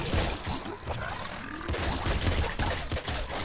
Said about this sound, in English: See, a plasma cannon, that's pretty good.